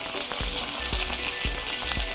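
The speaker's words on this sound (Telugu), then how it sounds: "ఇప్పుడు మనం ఆనియన్స్ వేసుకుంటున్నాం." Onions fry in hot oil with curry leaves for a fish curry, giving a steady close-up sizzle with soft, regular thumps of stirring every half second or so.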